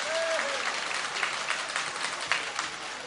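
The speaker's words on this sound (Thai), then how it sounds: "ปรบมือเป็นกำลังใจตัวเองและพี่น้องทั่วประเทศครับ" Crowd applause at a UDD press conference in Thailand, steady dense clapping at moderate distance, fairly soft and even throughout with a faint voice underneath.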